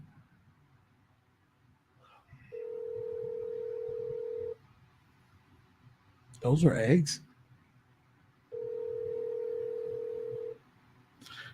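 A phone call placed during a talk-show recording: two steady dial-tone-like tones of about two seconds each, separated by a burst of speech, with faint talk underneath.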